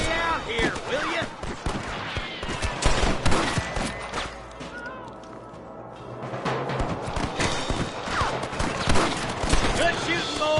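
Rapid bursts of gunfire crack through a shootout in Red Dead Redemption, dense volleys clustered at the start and end with a brief lull between, while voices speak over the action.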